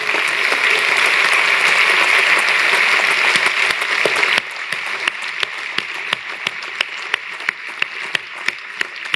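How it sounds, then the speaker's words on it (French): An audience applauds the musicians at a season presentation, with dense, loud clapping that drops abruptly halfway through to a thinner, quieter patter of scattered individual claps. "Merci de venir les applaudir."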